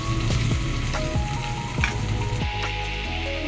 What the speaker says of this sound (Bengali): দিয়ে দিয়েছি সব কচুগুলো ভালো করে মিশিয়ে নেবো